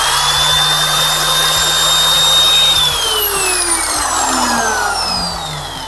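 A small Flex angle grinder with no soft-start or inrush current limiter: a loud, close, steady motor whine that drops gradually in pitch partway through.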